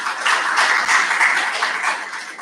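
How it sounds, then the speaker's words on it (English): Round of applause from an indoor church gathering, steady dense clapping from many hands, loud and sustained. "Let us give him a round of applause."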